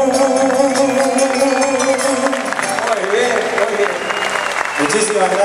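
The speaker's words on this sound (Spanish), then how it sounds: "Muy buenos los aplausos." Festival crowd applauding after a song at the Festival Nacional del Chipa, a loud sustained wash of clapping with musical tones and voices mixed through it.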